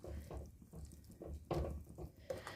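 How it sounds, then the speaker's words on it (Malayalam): Water is poured from a vessel into ground coconut paste for a drumstick leaf curry, making splashing, trickling bursts that rise and fall in short pulses, close by with no talk. "നമുക്ക് കുറച്ച് വെള്ളം കൂടെ ഒന്ന് ഒഴിച്ച് കൊടുക്കാം"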